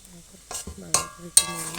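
Sticky jaggery being stirred in a pan for chalta (elephant apple) pickle, giving soft scraping and gentle sizzling with a few sharper scrapes against the pan.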